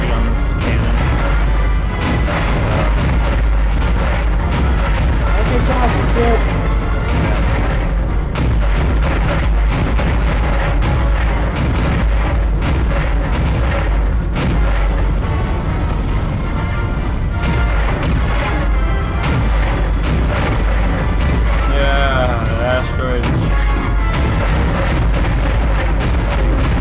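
Heavy cannon fire from a space-walk sequence in the Dead Space video game: dense, repeated booming blasts and crashing impacts fill the whole stretch, loud and continuous with no talk over them.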